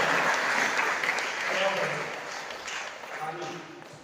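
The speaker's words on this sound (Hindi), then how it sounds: "एक ताली होनी चाहिए डॉक्टर लिम के लिए।" Audience applause at a seminar hall event, a steady wash of many hands clapping throughout, fairly loud and fading slightly toward the end.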